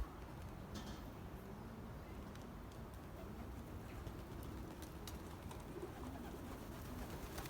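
Belgian racing pigeons cooing at a distance, soft low coos set against a steady outdoor background noise.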